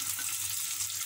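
Onions sizzle in hot oil with fennel seeds for a Tamil egg masala curry, a brief, soft and even frying hiss heard close by.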